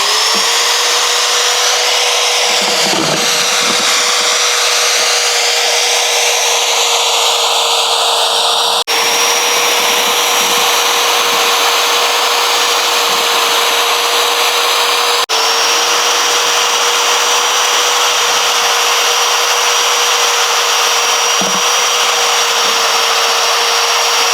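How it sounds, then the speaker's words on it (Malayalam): A homemade mixer blends guava and grapes inside an aquarium, its motor whining at a high, steady pitch that shifts slightly as it churns, running loud and continuous with a couple of brief interruptions. "ഇത് വെച്ചിട്ടാണ് മിക്സ് ചെയ്യാൻ പോണത്, അടിക്കാൻ പോണത്."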